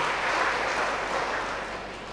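Clapping from a church congregation during a closing service for culture month, a soft, steady patter of many hands rising and then tapering off slightly.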